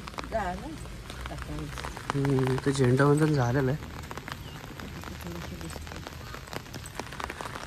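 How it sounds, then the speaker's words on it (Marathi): Light rain patters softly and steadily in the background while someone talks over it. "पाऊस एवढा कुठं आहे, थोडंच आहे."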